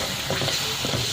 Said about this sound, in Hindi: ये मसाला फ्राई हो रहा है कीमे के साथ